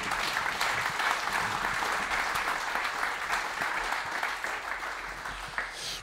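Concert audience applause at a jazz club in Amsterdam, an even, sustained wash of many hands clapping, moderately distant, with no speech over it.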